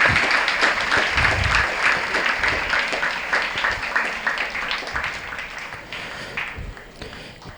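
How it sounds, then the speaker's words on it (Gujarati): An audience at a scholarship ceremony claps steadily in a dense burst of applause that slowly tapers off toward the end. "તાળી પાડો, તાળી પાડો, તાળી."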